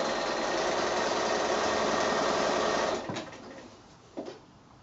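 A sewing machine stitches a quilt with a steady rapid whir for about three seconds, then stops near a corner, leaving a couple of brief faint clicks and handling sounds.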